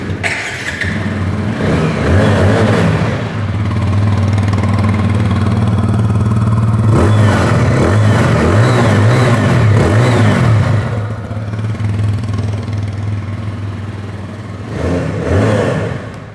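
A TVS Apache RTR motorcycle engine runs steadily close by, a low throbbing exhaust note with a few light revs rising and falling over about sixteen seconds, loud and alone with no talk.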